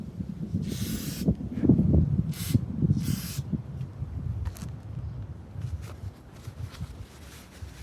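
Cleaner sprayed onto .40 cal Gen 3 Glock 22 pistol parts in three short hissing bursts, followed by fainter spray and handling noise.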